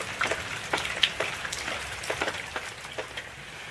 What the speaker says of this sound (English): The snow has mostly turned to rain.